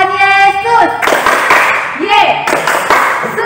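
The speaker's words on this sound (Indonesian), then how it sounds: "Ada sukacita, coba tepuk Tuhan Yesus." Children clap their hands during a Sunday-school church service, a few quick bursts of claps mixed with loud, close singing or speaking voices.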